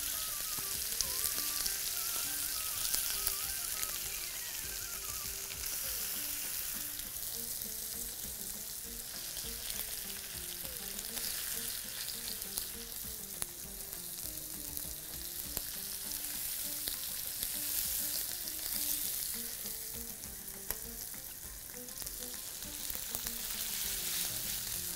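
A fillet steak fries in a pan with a steady, even sizzle that runs throughout at moderate level, with no voices.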